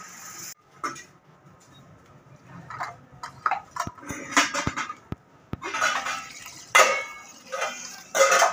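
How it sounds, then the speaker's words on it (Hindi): Dishes, pots and pans are washed by hand at home, with scattered metallic clinks, knocks and clatters of utensils, some sharp and close, between bursts of rinsing and scrubbing. "वो भी बर्तन धो रही है।"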